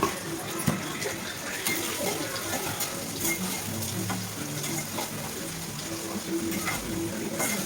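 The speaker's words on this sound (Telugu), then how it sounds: "మనకు ఉల్లిగడ్డ పచ్చిమిర్చి తొందరగా ఫ్రై కావాలంటే కొంచెం లైట్గా సాల్ట్ వేస్తే తొందర తొందరగా మర్చిపోతాయండి" Onions and green chillies fry with a pinch of salt in a pan, a steady, noisy sizzle that runs throughout with a few faint clinks, and a voice talks over it.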